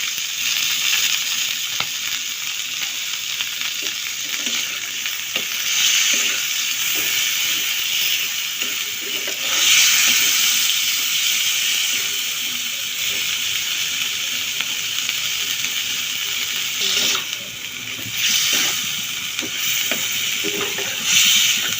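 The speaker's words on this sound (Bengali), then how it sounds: "একটু ভাজা ভাজা করে নেব।" Chicken pieces with ginger-garlic paste and salt fry in a pan for shawarma filling, giving a steady, close hiss and sizzle with occasional stirring scrapes and no talk.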